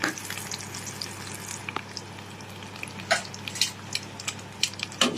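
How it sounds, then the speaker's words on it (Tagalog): Steady oil sizzle of dried fish frying, with scattered sharp pops and crackles through the second half, close by. "may ginisa tayong sayote, tapos may prito tayong tuyo"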